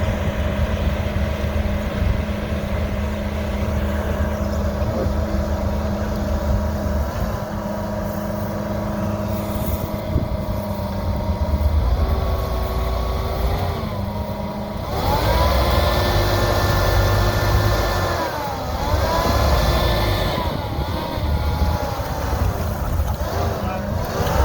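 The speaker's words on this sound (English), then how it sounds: "We're just letting the Sherp do its thing right now." A Sherp amphibious all-terrain vehicle loaded with gear drives on a moose hunt, its engine droning loudly and continuously and rising in pitch as it revs, with voices talking over it at times.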